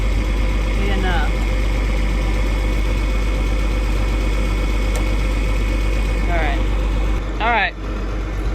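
Steady low tractor engine idle throbbing close by, with brief rising squeaky tones over the constant rumble.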